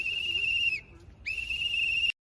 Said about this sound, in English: You blowing a whistle in people's ears,